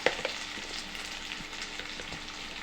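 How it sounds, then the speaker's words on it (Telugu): Ginger garlic paste with a little turmeric frying in a pan for a Telangana-style egg curry, a steady soft sizzle with a few faint scraping stirs, close and even throughout. "ఈ అల్లం వెల్లిగడ్డ పేస్ట్ కొంచెం పచ్చి వాసన పోయేంత వరకు వేయించుకోవాలి"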